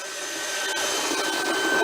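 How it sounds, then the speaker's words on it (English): A drill fitted with a 6-inch soil sampling bit runs steadily down into the ground, a continuous whirring, grinding drone at close range that slowly builds in strength, with faint ticks of soil and grit. "and we just run the drill down."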